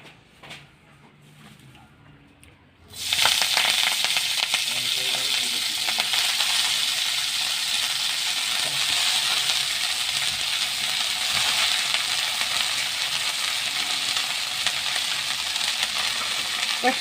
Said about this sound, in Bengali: এই সামান্য তেল দিয়ে আমি শাকগুলোকে এর মধ্যে দিয়ে দেবো।